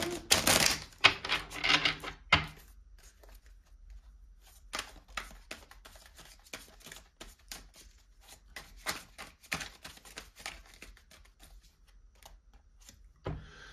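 Divine Love Oracle cards being shuffled by hand, a run of soft papery riffles and slaps, louder at the start and then a steady, close, irregular flutter of card contact with no voices.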